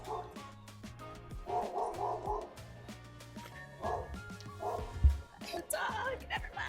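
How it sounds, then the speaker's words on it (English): A dog barks and yips several times outdoors during an open house visit, mixed in with people talking and background noise, with one louder bark standing out near the end. "Dog, never mind."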